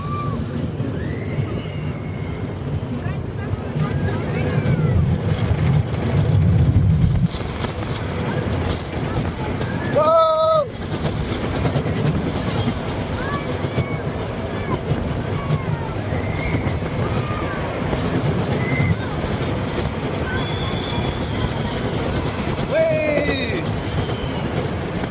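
A small amusement park ride train at Knott's Berry Farm rumbles and clatters along steadily, with brief squeals and a whistle-like tone partway through, mixed with background chatter.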